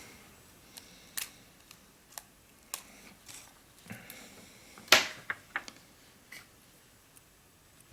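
Small scissors snip jungle cock feathers at a fly-tying bench. Scattered crisp, close clicks and cuts come at irregular intervals, with one sharper snip in the middle, against a quiet background with no talking.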